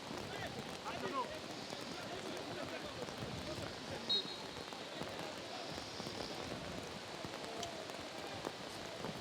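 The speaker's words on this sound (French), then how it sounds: "La pluie reprend de plus belle." Heavy rain pours steadily over an outdoor amateur football match between FC OSA and Zoman FC, a dense continuous hiss with crowd and commentary murmur beneath.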